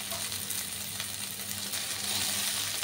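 Coated okra frying in warm mustard oil, a soft steady sizzle with faint crackles, fairly quiet and continuous, with no talking.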